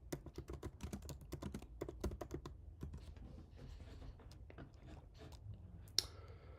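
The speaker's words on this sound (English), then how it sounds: "entering the next prompts one at a time and pressing enter" Steady typing on a computer keyboard, with rapid close clicks in bursts that slow toward the end, then one sharper keypress like an enter stroke; no talking.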